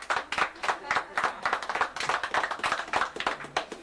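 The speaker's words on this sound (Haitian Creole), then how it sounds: "On nous applaudit Père Edouard pour la parole" A small audience at a church ceremony claps for Father Edouard, brisk uneven clapping from a handful of people close by, with lively rhythmic bursts running the whole time.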